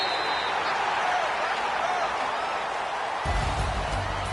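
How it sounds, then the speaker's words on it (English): Home crowd applauding in a PS4 sports game, steady broad clapping and crowd noise filling the short stretch, with commentary voices underneath. "And the home crowd applauding"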